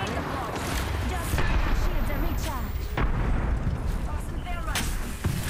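Video game gunfire cracks out in several sharp shots spread across the clip over a busy in-game background, with muffled talk underneath.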